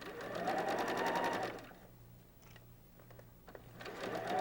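A sewing machine joining quilt strip pieces hums in a rapid, steady run, stops for a quiet pause with faint handling sounds, then starts stitching again.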